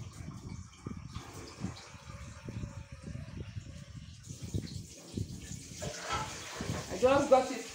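Tap water runs into a cooking pot on the fire for cocoyam porridge, a pouring that builds louder near the end after a stretch of quiet background noise.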